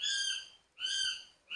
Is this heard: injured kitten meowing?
no